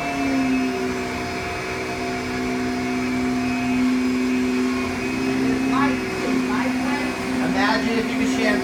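A Kirby vacuum cleaner runs steadily close by during a home demonstration, giving a continuous whining drone with a strong hum that holds throughout while a person talks over it.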